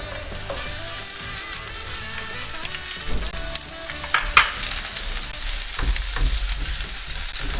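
Onions sauté in a pan for Filipino escabeche, a loud close sizzle with stirring scrapes that swells after a few seconds and keeps crackling.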